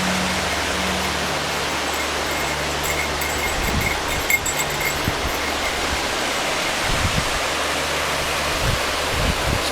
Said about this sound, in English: Good amount of water running through.